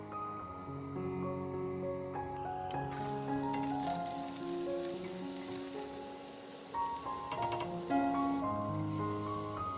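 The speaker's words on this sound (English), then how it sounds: "I heat some oil and add the onions" Onions frying in hot oil for a South Sudanese beef and jute leaf molokhia stew, a steady broadband sizzle that swells after the first few seconds, with soft music running beneath.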